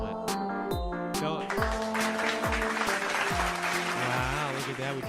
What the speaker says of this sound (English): We even got a little clap track in there.